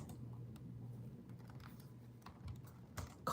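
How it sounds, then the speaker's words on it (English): Typing on a computer keyboard to enter a question into ChatGPT, a steady patter of quick, close keystrokes over a low hum, with no talking. "I didn't even finish and I typed already."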